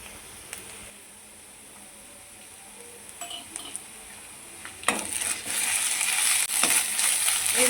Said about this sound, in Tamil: இப்போ நம்ம இஞ்சி பூண்டு பேஸ்ட்டு சேர்த்துக்கலாம்.